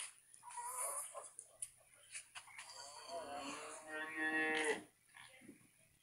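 A cow at a livestock market gives a long, drawn-out moo that swells and fades. Quieter market chatter surrounds it.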